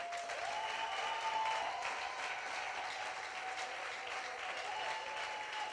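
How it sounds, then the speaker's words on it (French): A church congregation applauds steadily throughout, the clapping dense, sustained and fairly loud, with a held tone running faintly beneath it. "Applaudissez-les, elles sont belles."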